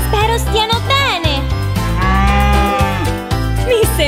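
Cows mooing in a children's song with cartoon cattle, several loud drawn-out moos over bright bouncy music, with a voice and singing also present.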